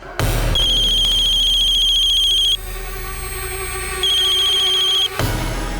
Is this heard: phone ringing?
yes